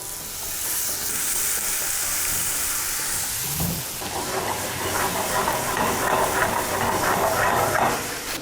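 Fresh strawberries drop into clear melted sugar caramel in a pan for a rice dessert, and a steady hiss swells into a louder, bubbling sizzle partway through that then carries on.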